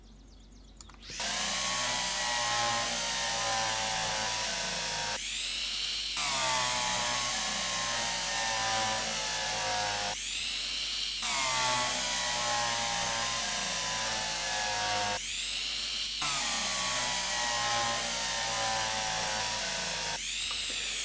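A power drill in the train simulator game Derail Valley whirs in long loud bursts of about four to five seconds, with brief pauses and pitch restarts between them, no talking over it.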